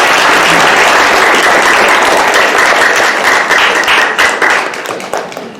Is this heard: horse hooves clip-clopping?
no